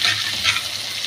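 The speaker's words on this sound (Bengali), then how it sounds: "জিরে দিয়ে আলু ভাজতে দিয়ে দেবো।" Potatoes frying with cumin seeds in hot oil already used for frying prawns, a steady, close hiss of sizzling with no voices over it.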